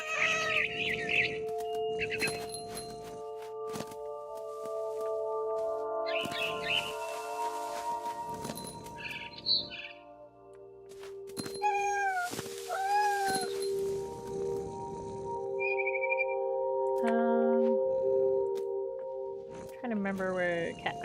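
A cat meows and caterwauls in the video game What Remains of Edith Finch. Several drawn-out cries mix with game sounds under ongoing narration.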